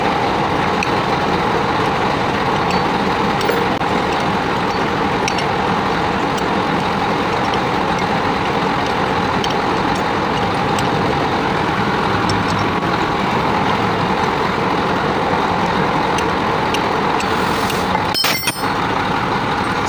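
A Cummins diesel truck engine runs at a steady, loud idle in a repair setting during pulley removal, with a sharp hiss near the end like an air brake release.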